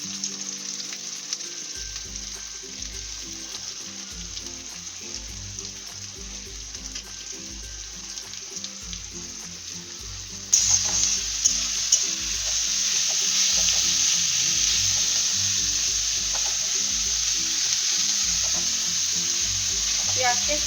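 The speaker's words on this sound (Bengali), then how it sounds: "কড়াইটা ভালো করে গরম করে তারপরে তেল দিচ্ছি, দিয়ে আমি পেঁয়াজটাকে ভাজবো।" Chopped onion hits hot oil in a heated karahi for egg biryani. After a quieter stretch of kitchen sounds, a loud, steady sizzle bursts in halfway through and keeps crackling.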